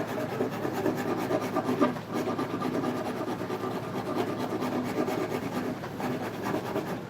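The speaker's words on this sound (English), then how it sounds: "And it's all because I've got this rasp" A woodworking rasp carves the curved heel of a wooden guitar neck, a continuous close scraping and filing sound of steady back-and-forth strokes with no speech.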